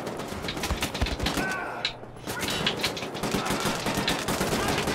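Gunfire in Wolfenstein: The New Order comes as dense, rapid bursts of close automatic fire with a short pause partway through, continuing loud and steady throughout.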